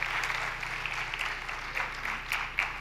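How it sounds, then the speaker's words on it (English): An audience at an Idea Fest talk in Kentucky gives a steady round of applause, a dense, even wash of clapping throughout with no pauses. "So let's get another round of applause."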